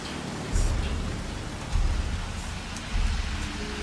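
Steady rain in the video game Jurassic World Evolution hisses evenly, broken by three low, rumbling surges that swell and fade.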